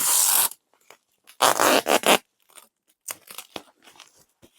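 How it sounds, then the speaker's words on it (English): Packing tape pulled off the roll and pressed onto a package, with a loud ripping screech, then a longer louder strip pulled in bursts, followed by softer crinkling and tapping as it is smoothed down. "Tape sound."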